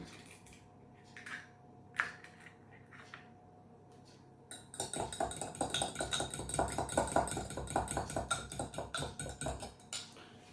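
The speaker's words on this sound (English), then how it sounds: "I'm going to beat the eggs" Eggs being beaten in a bowl while baking a 1940s orange cake: a fast, steady run of light clinks and taps from a utensil against the bowl after a quieter start, with no voices.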